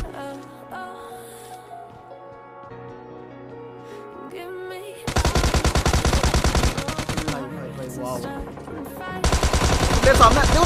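Rapid bursts of automatic fire from an M416 rifle in the mobile game BGMI Lite break in loudly after a quieter stretch of tonal game sound. Two dense volleys are split by a short lull.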